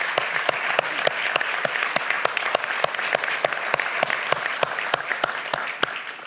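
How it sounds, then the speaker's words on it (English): An audience applauds at a conference closing plenary with loud, steady clapping and distinct sharp individual claps standing out in a rhythmic pattern throughout. "I think we all owe him a round of applause."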